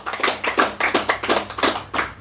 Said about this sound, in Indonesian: Yes, tepuk tangan.